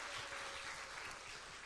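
Brief applause from a church congregation at a Friday prayer meeting, clapping for the drummer, dense but fairly quiet and distant.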